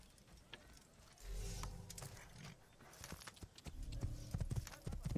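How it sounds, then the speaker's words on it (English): Horse hooves clip-clop steadily in the Assassin's Creed video game, a rhythmic mid-distance trot that grows busier and louder toward the end, with no talking over it. "Go and get back on my horse."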